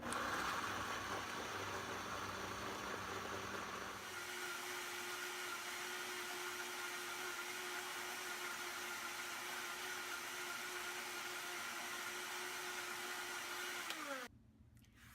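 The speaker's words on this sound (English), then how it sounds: "I just want to make sure we have a thoroughly blended nice sauce" A blender whirs steadily as it purées blueberry pie filling sauce sweetened with sugar, loud and continuous at close range, then shifts to a lower, steadier drone partway through before cutting off abruptly near the end.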